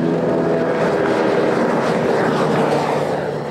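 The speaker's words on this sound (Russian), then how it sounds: "Это Боинг среднего класса. Баки наполнены, двигатель прогрет, полоса в порядке. А значит, можно взлетать." A mid-size Boeing airliner with full tanks and warmed engines takes off, producing a loud, steady, unbroken jet roar that holds level throughout with no voices.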